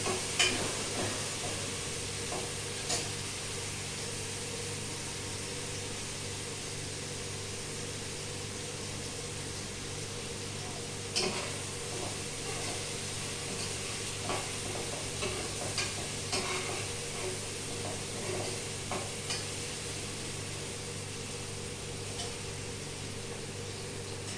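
Schezwan noodles are stirred in a frying pan over a constant, steady sizzle and hiss, with occasional soft scrapes and clinks of the utensil throughout.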